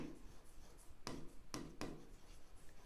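Marker strokes on a whiteboard during a Class 9 algebra lesson on linear equations: a few faint, quick squeaky swipes over quiet room tone, with no talking.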